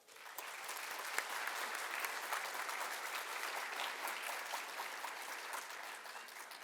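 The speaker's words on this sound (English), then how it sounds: "Please give Antonio Armendariz a round of applause for playing taps." Sustained audience applause fills a school Veterans Day program after a bugler plays taps, a dense, steady patter of many hands that holds throughout and tapers slightly at the end.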